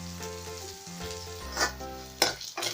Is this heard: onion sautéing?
yes